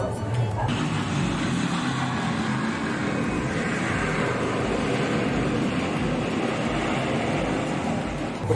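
An airplane flies overhead, a broad steady roar that stays loud and constant throughout, heard from an outdoor eating spot.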